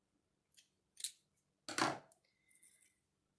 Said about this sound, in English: So what you do is you take your scissors, and you wiggle them around.